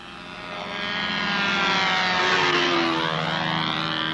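The engine of a Brodak Cardinal control-line model airplane whines steadily in flight, its buzzing pitch swelling and shifting as the plane circles nearby, loud and unbroken.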